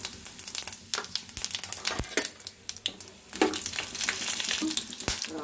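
Cumin seeds and black peppercorns sizzle and crackle in hot ghee, steady frying with sharp spitting pops and a few ladle scrapes against the pan, close and alone without talk.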